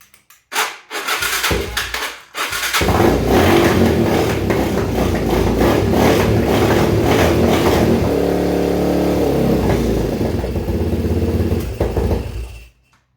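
A Yamaha Raptor 250 ATV engine with choke on and no air box cranks with a few sputtering tries, then catches and runs loud and rough, revving unevenly before cutting off.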